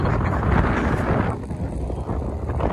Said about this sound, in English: It's windy. What is it, blowing like 25? It's ripping.